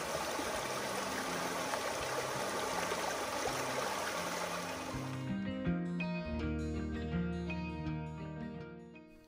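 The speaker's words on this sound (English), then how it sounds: "several of them right on the water with a little creek running behind your" A creek flows behind a campsite at Vogel State Park in Georgia, its close, steady rushing and trickling filling the first half before music takes over and the water fades beneath it.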